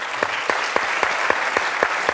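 A business-summit audience claps at a keynote address in a brief burst of applause, with distinct rhythmic hand claps close by and no talk.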